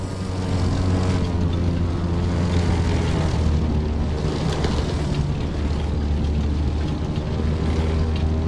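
An airplane's engine drones steadily in The Crew 2 racing game, a continuous loud propeller-like hum with no talk.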